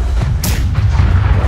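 A heavy ship cannon blast in the game Blackwake bursts out amid a continuous low rumble of game noise, with a sharp boom standing out near the middle.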